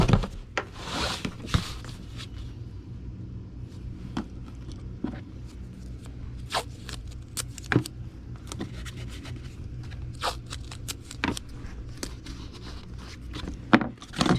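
Tape is pulled and pressed down while securing a comic book inside a Gemini mailer, heard as scattered close rustles, scrapes and short sharp tears over a quiet background.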